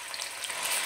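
Beef pieces, about 700 grams cut into chunks, frying over high heat in a pan, giving a steady close broadband sizzle with no voices.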